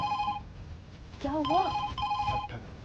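A telephone rings with a steady electronic trill before and after a woman's short question, her voice partly overlapping the tone in an indoor domestic scene.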